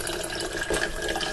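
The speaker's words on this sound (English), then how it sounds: "I take the juice and pour it back into the jars that the sauce came out of." Mushroom juice poured from the mushrooms back into an emptied sauce jar makes a steady, close liquid splash and trickle for a moment.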